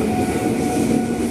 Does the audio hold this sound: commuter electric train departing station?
yes